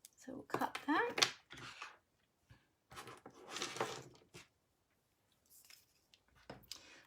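Paper snips with craft scissors while assembling a Stampin' Up Love, Santa gift tag, a few quick crisp cuts close by, with short gaps and soft handling noise between them.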